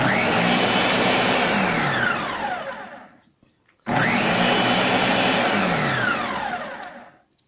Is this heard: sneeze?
no